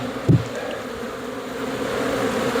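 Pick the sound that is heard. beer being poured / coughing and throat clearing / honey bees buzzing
honey bees buzzing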